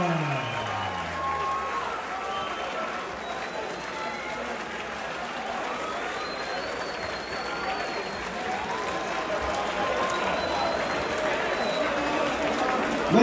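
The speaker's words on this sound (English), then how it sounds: "would you please keep the applause going for the outgoing champion" A boxing-match crowd keeps up sustained applause and some cheering through the whole stretch, broad and continuous, with announcer-style talk audible over the clapping.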